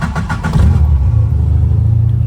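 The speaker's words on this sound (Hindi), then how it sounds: "अब गाड़ी स्टार्ट है हमारी अल्हम्दुलिल्लाह" A car engine starts and then settles into a steady, close idle as it warms up, with a few revving pulses at the start and a low, even hum afterwards.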